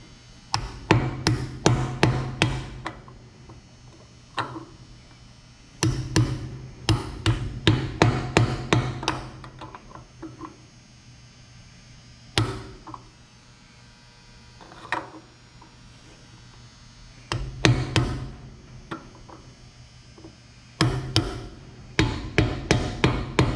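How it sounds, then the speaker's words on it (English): A brass hammer taps a Bearing Buddy onto a boat trailer wheel hub, with sharp metallic strikes coming in quick bursts of several blows separated by pauses, close and loud. "I got the brass hammer."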